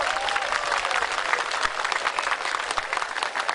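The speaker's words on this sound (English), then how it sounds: "Ladies and gentlemen, let's give a round of applause for Mr." Audience applause for a performer at a Myanmar march rally in Sydney, a lively crowd clapping loudly and evenly for a few seconds, with a faint whistle near the start.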